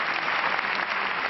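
Dense, even applause from an audience at a French political meeting, a continuous wash of clapping with no speech over it.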